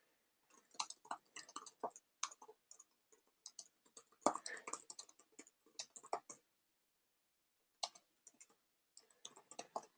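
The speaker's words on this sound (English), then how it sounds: "I'm going to keep typing here." Quick, uneven clatter of computer keyboard keys in bursts, close up and fairly quiet, pausing briefly before resuming.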